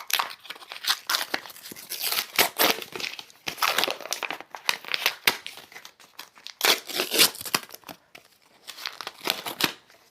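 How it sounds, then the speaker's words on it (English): Gift wrapping paper on a birthday present is torn and crumpled by hand, a close, loud stream of crackling rustles and ripping bursts with short pauses between handfuls. "I finally got the wrapping paper off."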